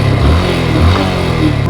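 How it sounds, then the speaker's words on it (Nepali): A motorcycle engine idles steadily after being started, with a low, continuous rumble throughout and a faint clatter on top, close and fairly loud. "भिडियो नि स्टार्ट भयो, बाइक नि स्टार्ट भयो।"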